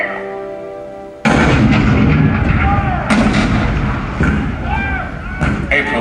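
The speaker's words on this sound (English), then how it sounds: "The cannon spoke for war, bitter, violent, and devastating." Cannon fire in a staged war scene at Fort Sumter, 1861: a single sudden deep blast, then a rolling roar of further booms and echoing reports, loud and close, with a voice speaking over it.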